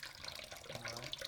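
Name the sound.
tap water washing raw chicken meat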